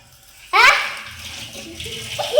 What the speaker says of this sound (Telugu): తిప్పండి, అది నీళ్ళు వస్తాయి.